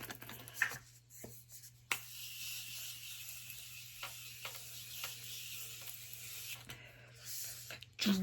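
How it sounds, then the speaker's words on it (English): Morphe setting spray is misted onto a face during a makeup routine, several short close hissing bursts spread across a quiet room background. "we're going to go in with a Morphe spray"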